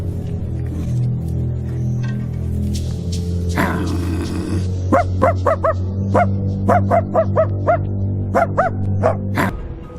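A dog barks repeatedly in a film scene, the sharp barks coming in quick clustered bursts over a steady low background hum, loud and fairly close, with no one speaking.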